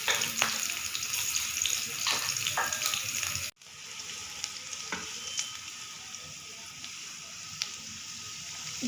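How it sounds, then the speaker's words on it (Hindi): Hot ginger tempering sizzles steadily over a finished ginger mutton dish, a broad bright frying hiss with a brief dropout midway, close and fairly loud, with no talking. "अब मैं इसके ऊपर तड़का लगा रही हूँ।"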